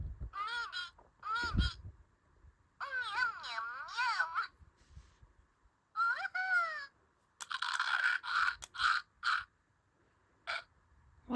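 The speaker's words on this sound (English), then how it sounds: "What is he crunching? Sounds very crunchy, like a carrot maybe." A Little Live Pets NeeDees toy hamster makes bursts of raspy, chirpy crunching noises in short irregular clusters, loud and close. Brief pauses fall between the bursts.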